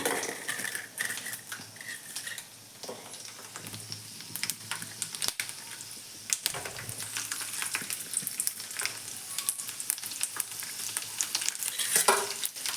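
Onion and green chilli fry in a pan with a steady, close sizzle, broken by scraping stirs and occasional sharp clinks of a utensil against the metal, with no voices.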